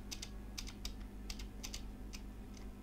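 Computer keyboard keys clack in short, uneven bursts of quick taps, close but fairly quiet over a steady low hum, with no one talking.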